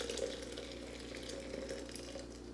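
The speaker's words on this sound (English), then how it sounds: "I'm gonna go ahead and pour this over our coffee grounds." Hot water pours steadily onto coffee grounds in a French press, a continuous soft splashing trickle, close and fairly quiet, under a low background hum.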